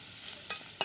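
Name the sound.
spice paste frying in oil in a pan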